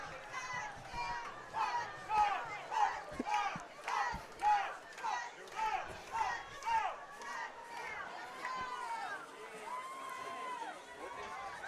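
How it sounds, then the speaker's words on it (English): Football crowd at a Damien versus Rancho Cucamonga high school game, on their feet and cheering in a rhythmic, pulsing chant of many voices, loud and steady over background chatter. "The Spartan crowd is on their feet."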